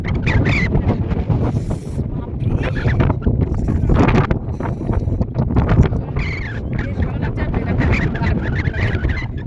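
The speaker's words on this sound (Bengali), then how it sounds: "জানি না কথাটা কতটা ক্লিয়ার যাচ্ছে, যেহেতু হাওয়ার ফোর্স একদম হাই লেভেলে" Strong wind roars steadily across a foggy mountainside at 10,000 feet, buffeting the microphone with loud, continuous gusts and no let-up.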